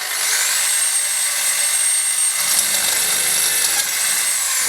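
A power drill runs at high speed boring a hole while making an elbow guard, a loud continuous whine close by with a rising pitch at the start and a grinding change partway through.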